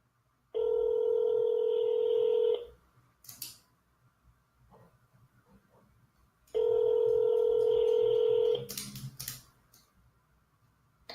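A phone call rings out through two long, steady ringback tones, each about two seconds, separated by a pause with faint clicks and rustling nearby.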